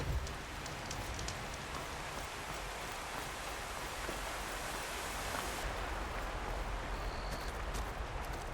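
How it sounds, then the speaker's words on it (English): Steady rainfall in the video game Horizon, a dense, even hiss of drops falling on surfaces that continues without a break and stays moderately loud, with no voices. "Land was bracing for this rain."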